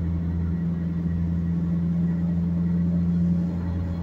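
A car engine runs steadily at low revs, a constant droning hum and rumble heard from inside the vehicle, unbroken and without talk.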